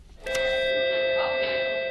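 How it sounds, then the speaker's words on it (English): A bright electronic bell tone rings out with sustained steady pitches, a brief ding followed by a held chime with faint voices murmuring behind it. "The bell rings and these students are on their own"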